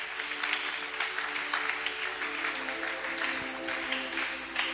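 A church congregation applauds steadily, a dense, continuous wash of many hands clapping with no pause, a low organ or keyboard drone held faintly underneath.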